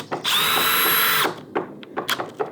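A DeWalt DCD800B/DCD805B cordless drill drives a screw at its fast setting: one loud, steady whining burst of about a second that stops abruptly, then a few light clicks and handling knocks.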